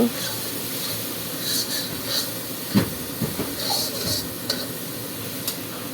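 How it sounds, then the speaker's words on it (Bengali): A spice paste of chilli, cumin and ginger frying in a pan gives a steady broadband sizzle and hiss throughout, with occasional soft clicks and scrapes. The sound is close and even, and no one speaks. "এখন মশলাটা কিছু সময় কষিয়ে নিই"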